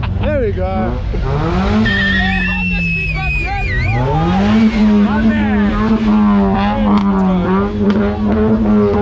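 A car spins at a nighttime South African car-scene gathering, its tires squealing loudly and continuously in a long, wavering shriek over a low engine roar, with crowd noise and voices mixed in.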